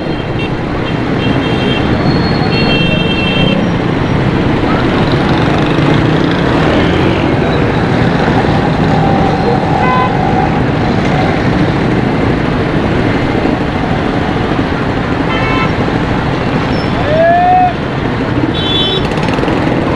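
Dense street traffic in Karachi by a mobile phone market, a steady roar of engines and tyres with passing vehicles, occasional horn toots and beeps, loud and continuous throughout.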